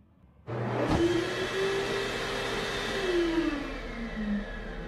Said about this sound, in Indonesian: terdengar suara pengering tangan yang sedang ngahiyeng